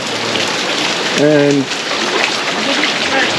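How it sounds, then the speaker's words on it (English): Hot spring water and cold stream water run down together in a steady, broadband rushing flow that stays constant throughout, with a brief spoken word over it. "so you have the hot water coming down and the cold water from the stream"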